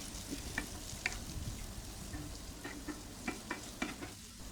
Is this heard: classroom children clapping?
no